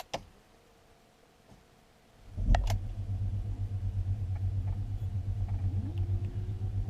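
A BMW E31 840Ci converted to electric power is switched on with the key. After a quiet start comes a click, then a low pulsing rumble and hum that hold steady, with a faint rising whine near the end and no talking.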